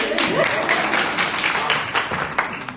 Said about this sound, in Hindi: चलो आप पहले तो टीम बी के लिए तालियां बजाइए